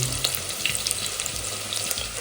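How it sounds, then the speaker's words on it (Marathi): Chopped onion and curry leaves sizzling in hot oil for a tempering, a bright crackling fry with scattered pops and faint stirring, close and steady, no voices. "कांदा आणि कढीपत्त्याची तेलात फोडणी गेली आहे आणि छान आधी परतवून घेऊया"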